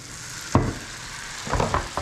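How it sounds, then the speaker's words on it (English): Butter melting in a very hot pan just pulled off the burner, a steady close sizzle with a few louder crackling bursts, no voices. "since the pan is super ripping hot, we're gonna take that off the burner here and melt that butter"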